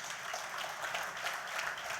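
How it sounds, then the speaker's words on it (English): Audience applause at a conference event for an honoured guest from a college of education, a steady, even clatter of many hands at moderate loudness, heard alone without speech. "A round of applause for him, please."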